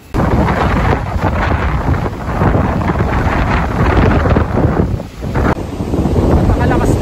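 Strong gusts batter the microphone atop Mount Udok in the Sierra Madre, a loud, continuous roaring buffet that briefly dips before surging again.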